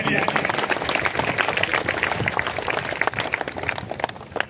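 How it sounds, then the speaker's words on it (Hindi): Applause for a child at a school parents' day fills the room: dense, steady clapping from a crowd, fairly loud throughout with no pause. "तालियां जी।"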